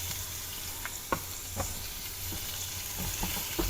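Seasoned food with pepper and oyster sauce sizzles steadily in a hot pan, with a few soft scrapes and knocks from stirring cutting through the constant frying hiss.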